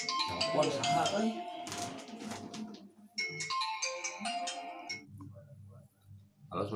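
A phone ringtone plays in bursts of bright, repeating electronic tones in a comedy scene, interrupted by short pauses, with people talking over and between the rings.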